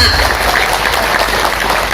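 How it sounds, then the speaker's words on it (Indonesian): Brief burst of applause at a plaza gathering, dense clapping heard for a couple of seconds at steady loudness. "Tepuk tangan untuk SH."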